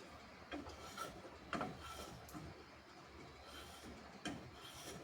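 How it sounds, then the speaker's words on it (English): A wood rasp files a wooden back-up handle for a Japanese splitter, giving soft, faint, close rasping and rubbing strokes with a few sharper scrapes and no talk. "really just get quite a lot done with the rasp"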